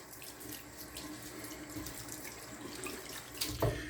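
Tap water runs steadily into a bathroom sink, a soft continuous splashing at moderate distance, with a brief clunk near the end.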